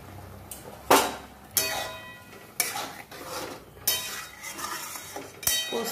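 A spoon clinking against a metal pot while two spoons of sugar go into a tomato, potato and poppy-seed (aloo posto) curry, six or so sharp separate clinks spaced about a second apart over a low kitchen background.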